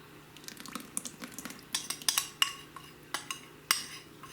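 Cocoa powder, sugar and eggs for gluten-free brownies are stirred together in a bowl, with a quiet series of irregular clinks and scrapes from a utensil against the dish.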